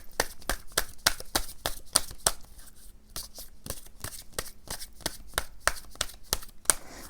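Tarot cards being shuffled by hand, a quick run of crisp, regular riffling slaps close up with a brief lull in the middle, and no voice.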